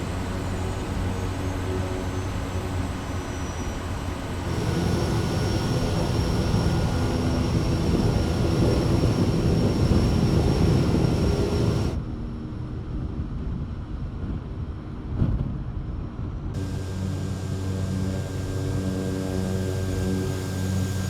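Kodiak 100 single-engine turboprop taxiing in Microsoft Flight Simulator 2020, a steady loud engine drone and whine that shifts tone midway, drops to a muffled hum, then returns.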